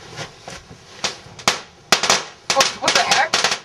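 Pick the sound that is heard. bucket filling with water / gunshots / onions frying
gunshots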